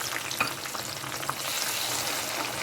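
Chopped small tomatoes frying in a pan for a potato and cluster bean sabzi, giving a steady, close sizzle with light crackles and a few soft stirring clicks, no talking.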